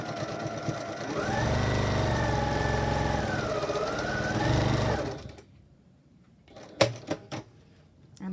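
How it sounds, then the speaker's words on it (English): A sewing machine stitches the curved side of a fabric face mask in one steady, whirring run of about four seconds. It then stops, leaving quiet broken by a few sharp clicks and taps. "now I start off by stitching the curved side"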